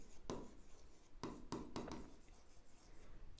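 A pen writes entries onto paper in a bookkeeping exercise, with a few short scratchy strokes standing out close and clear against a quiet room.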